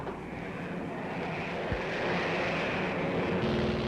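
WWII American bomber planes droning in flight, a steady, dense engine roar that fills the whole stretch without pause, loud and continuous with no voices.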